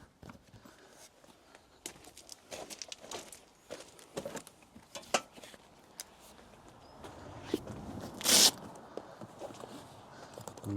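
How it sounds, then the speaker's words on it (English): A zip on a Specialised Covers Tow Pro Elite towing cover is pulled open along the offside, a short rasping burst near the end, preceded by scattered rustles and footsteps of the cover being handled. "undo the offside zip."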